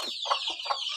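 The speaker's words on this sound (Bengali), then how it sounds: "একটা মুরগি কিছু ডিম নিয়ে এখানে বসে রয়েছে" A native hen sitting on a clutch of eggs gives soft, close clucks in short bursts, a few quick calls over one second.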